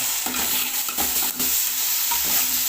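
Vegetables and chicken for a pulao are stir-fried in a hot pot, with a loud continuous sizzle punctuated by repeated scraping and clanking of a ladle against the metal, close up and without talk.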